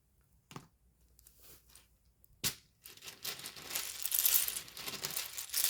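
Plastic Scrabble tiles rummaged and clattering in a bag or pile, starting with a few sharp isolated clicks and then building into a dense, loud, continuous rattling jumble up close.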